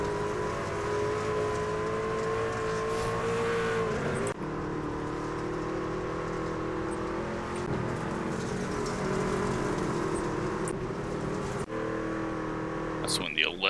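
Race truck engines drone and rev in iRacing NASCAR dirt truck racing at Knoxville Raceway, with sustained buzzing throttle and uneven revving, heard under ongoing commentary voices.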